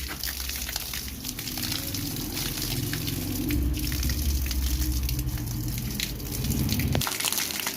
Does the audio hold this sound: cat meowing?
no